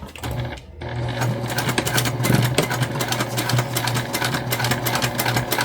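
A sewing machine top stitches a fabric bum bag, its rapid mechanical whir running close and steady after a brief pause near the start, with no talking.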